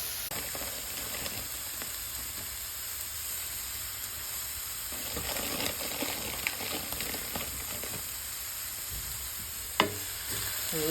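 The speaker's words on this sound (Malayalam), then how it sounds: "തേങ്ങയും കൂടെ ഇട്ട് നന്നായിട്ട് ഇളക്കി എടുക്കാം" Cabbage and carrot thoran being stirred with grated coconut in a pan, giving a steady soft sizzle with scraping stir strokes throughout and one sharp clink near the end, no talking.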